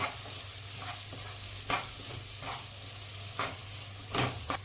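Spices and gram flour roasting and being stirred in a pan for paneer bhurji, a steady low sizzle with scraping strokes of the spoon at irregular intervals, close and moderate in level, with no talking.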